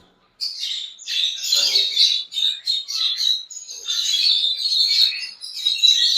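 Shrill, continuous chirping and squawking from ring-necked parakeets in a bird shop, several birds calling at once, close and fairly loud for the whole stretch.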